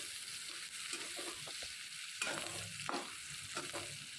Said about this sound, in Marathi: कांदा तेलामध्ये छान परतून घ्यायचा आहे कांदा छान लालसर होईपर्यंत आपण याला तेलामध्ये छान असं फ्राय करून घेणार आहोत